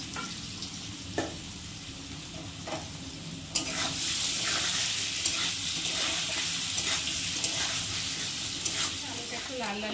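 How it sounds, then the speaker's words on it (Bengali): Cut potatoes fry in oil in a pan for an egg curry, giving a steady close sizzle with occasional stirring clinks that grows louder and fuller after the first few seconds. "এখন এই যে কেটে রাখা আলুগুলোকে দিয়ে একটু ভালো করে ভেজে নেব"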